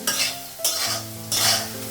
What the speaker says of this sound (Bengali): এই কড়াইয়ে ডালটা ফোড়ন দেবো